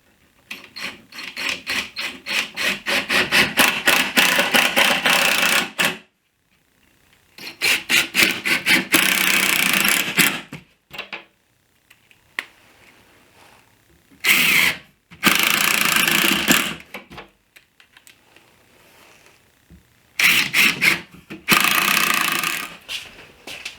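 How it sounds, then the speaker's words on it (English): A power drill drives screws into wood for a DIY patio cooler. Several loud, whirring bursts of a few seconds each are separated by silent pauses, and the motor strains as each screw seats. "we're just going to drive some screws. I'll drive 2 on this side."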